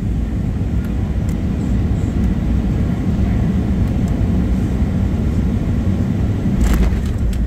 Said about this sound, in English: Main gear, contact, spoilers deployed, reverse thrusters deployed, nose gear, contact, auto brake on.